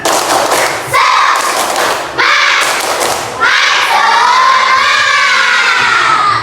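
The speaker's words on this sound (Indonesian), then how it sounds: "Tepuk semangat dulu. Tepuk semangat." Fourth-grade schoolchildren in an Indonesian classroom perform the 'tepuk semangat' spirit clap chant, shouting rhythmic phrases in unison with sharp claps and thumps, loud and close, in three bursts that run together into a sustained final chant.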